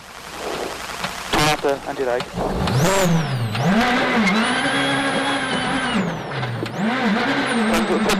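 A WRC rally car at Rally Germany 2011 revs hard and loud, its engine pitch rising and falling repeatedly through gear changes, with a voice talking over it.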